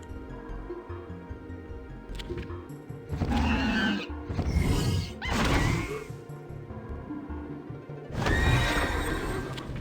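A horse neighing in the Origins TCG card video game, with several loud, rough whinnies and snorts in bursts over a low hoofbeat-like rumble, close and alone with no talk.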